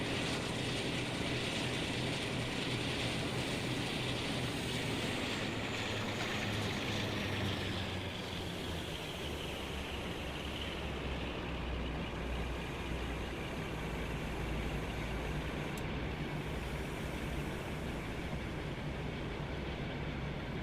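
A class 47 diesel locomotive in Train Sim World 5 on a West Cornwall local route gives a loud, continuous engine drone throughout, shifting pitch partway as the throttle changes, with no talk.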